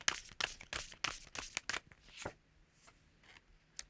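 Tarot cards shuffled and pulled by hand, a rapid run of close, crisp riffling snaps that slows into a few softer slides and taps.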